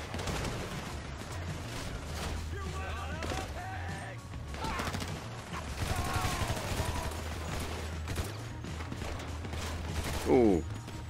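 GTA 5 Online survival match at Sandy Shores: bursts of gunfire crackle over a steady low game rumble, with scattered shots and a sharper burst near the end, mixed under game sounds.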